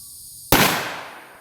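Model 19 revolver fired single action from the draw, one sharp loud close shot cracking out of quiet background and decaying over about a second.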